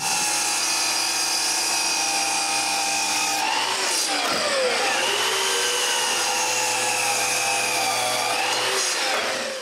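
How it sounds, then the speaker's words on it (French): A miter saw tilted to 38 degrees cuts through wooden blocks for stair parts: a steady, loud motor whine runs throughout, and the pitch dips briefly midway as the blade bites into the wood. "Après avoir penché ma scie à onglet à 38 degrés, qui est l'angle de mes marches, je coupe tous les blocs."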